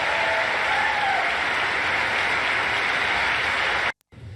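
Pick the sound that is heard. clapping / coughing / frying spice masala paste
clapping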